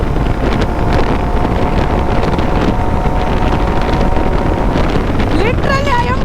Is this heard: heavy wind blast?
yes